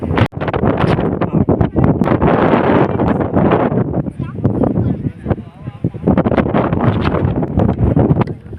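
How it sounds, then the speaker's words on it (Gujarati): Strong mountain gusts on Girnar buffet the microphone, roaring and rumbling in waves with brief lulls, close and loud, with faint voices underneath. "જો કેટલો પવન"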